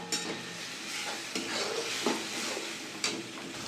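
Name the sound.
stirring and frying ridge gourd paste in pan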